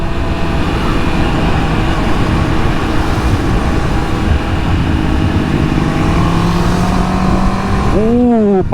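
A Honda CB650R retro-styled motorcycle with its stock exhaust, heard close up as a steady engine drone that climbs in pitch when the throttle opens near the end.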